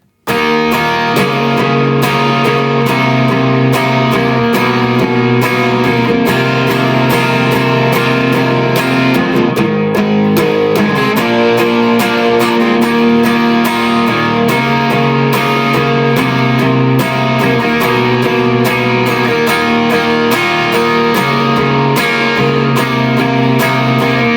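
Distorted electric guitar plays the outro of a song, loud and continuous with dense strummed chords throughout and no voices.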